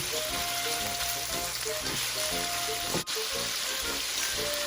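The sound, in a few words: stir frying pork and taro roots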